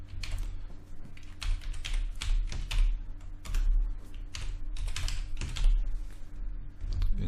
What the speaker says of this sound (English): then we can start typing